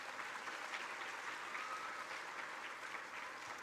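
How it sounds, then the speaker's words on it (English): Faint, steady applause from an audience at a school board student recognition ceremony, continuous clapping with no voices over it. "If we could have one more round of applause for all of our volunteers."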